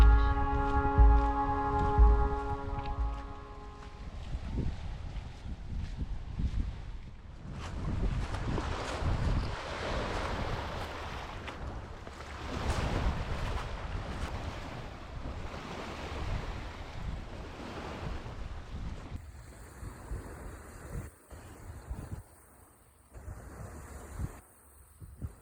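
Waves washing onto a beach at Discovery Park, Washington, with steady wind buffeting the microphone, a continuous broad surf roar and gusty rumble, with a brief tonal sound at the start.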